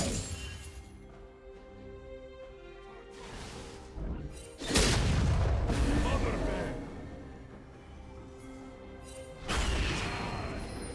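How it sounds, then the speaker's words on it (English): A turret destroyed in League of Legends during a Warwick versus Teemo top-lane match: several heavy crashing impacts with rumbling bursts, the loudest near five seconds and another near ten, over quieter game sounds. "Blue team's turret has been destroyed."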